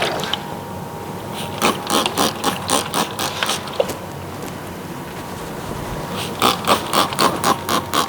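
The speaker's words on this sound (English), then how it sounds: "My spritzer is really spritzing." A spray bottle spritzes moist bread before a freeze-drying run, a quick series of sharp hissing bursts that come in two clusters with a pause between them, close and fairly loud, with no talking.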